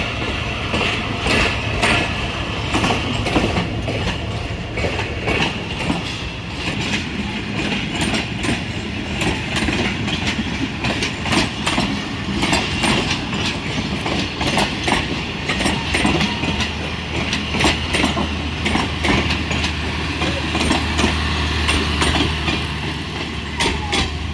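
A train rolls through Sama Sata Junction railway station in the early morning, loud and close, with a continuous rumble and rhythmic clickety-clack of wheels over rail joints, no talking.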